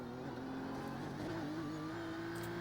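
A race car engine holds full throttle around the Nurburgring in iRacing, a steady, loud drone with a slowly rising pitch that carries on without pause for the whole stretch.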